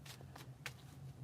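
A deck of playing cards is bridge shuffled, giving a few quick, soft riffling bursts and light flutters close to the microphone over a faint steady hum.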